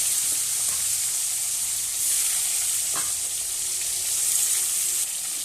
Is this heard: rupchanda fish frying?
yes